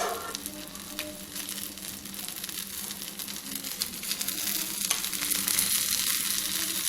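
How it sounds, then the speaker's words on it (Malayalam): Mustard seeds and coconut tempered in hot oil for Kerala erissery: a close, continuous sizzle with fine crackling and popping that grows slightly louder toward the end, with no talking. "എരിശ്ശേരിക്ക് നമ്മൾ കടുക് താളിക്കുക എന്ന് പറയുന്നത് തേങ്ങ ആണ് മെയിനായിട്ട് നമ്മളിതിൽ താളിച്ചിടുന്നത്"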